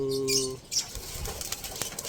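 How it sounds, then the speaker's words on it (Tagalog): Pigeons in a new loft: a bird calls with a steady harmonic tone, then wings flap and rustle close by, with scattered soft knocks and movement. "Napunta lang yung mga ibon dito."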